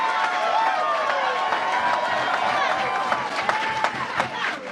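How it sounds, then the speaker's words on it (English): A campaign rally crowd applauds at length, a loud, dense, sustained roar of clapping and cheering with voices shouting through it. "Long applause."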